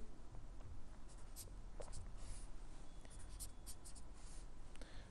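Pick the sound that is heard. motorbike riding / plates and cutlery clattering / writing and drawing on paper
writing and drawing on paper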